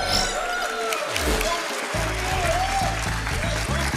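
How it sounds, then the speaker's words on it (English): Audience at AGDQ 2020, a live speedrun event before a Donkey Kong Country 3 run, applauding and cheering steadily, a dense crowd wash that carries on under a backdrop of music. "Let's hear your biggest amount of hype, biggest amount of cheer."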